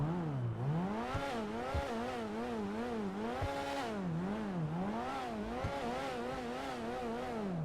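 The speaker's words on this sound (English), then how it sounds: "As for the way the vehicle sounds," A supercar engine in GTA Online revs up and down repeatedly in a rising and falling wail, loud and continuous with a few sharp gear-shift pops, and no voices over it.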